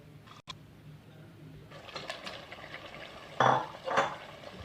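Raw chicken pieces tumble into a hot pan of lightly fried spices for chicken nihari, giving a few soft clattering thuds and then a louder burst of sizzling and stirring. No one speaks.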